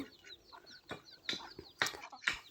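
Ducks gathering near a home at feeding time, heard as a short burst of close quacks and squawks with some wing flutter.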